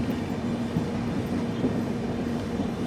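Riding aboard the Garib Rath Express as it rolls into Chengannur station, a steady low rumble of wheels and carriage with a faint hum, continuous and moderately loud without speech.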